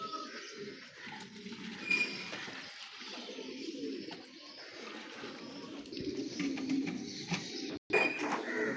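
Soft cooing of pigeons murmurs continuously under a faint, busy background, with a brief clatter near the end.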